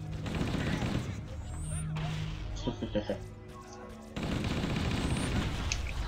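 Halo CE game combat: bursts of gunfire and a grenade blast crash and rattle loudly, with a brief quieter stretch of scattered shots and effects in the middle before the heavy firing resumes.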